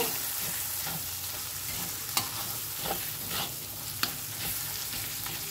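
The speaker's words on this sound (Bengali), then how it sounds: "আমি এখানে দিয়ে দিলাম লঙ্কার গুঁড়োটা। দিয়ে ভালো করে মিশিয়ে নেব।" Chili powder stirred into a chickpea masala frying with tomato gives a continuous close sizzle and frying hiss, broken by scraping stirring strokes and a few sharp clinks of the spoon against the pan, with no one speaking.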